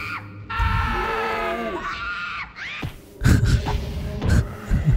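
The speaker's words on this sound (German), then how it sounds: "Dieses Geschrei, das ist auch Wahnsinn." Shrill, drawn-out screams from creatures in the video game Dungeon Keeper rise and waver over a low throbbing background, followed by rumbling thumps.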